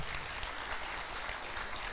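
A church congregation applauds: dense, steady clapping from many hands fills the whole stretch evenly, with no voices standing out.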